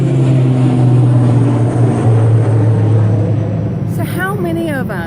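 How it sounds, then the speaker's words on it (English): A propeller airplane passes overhead, its engine drone steady and fairly loud across the whole stretch, with a voice talking over it and a rising warble near the end. "And here comes an airplane."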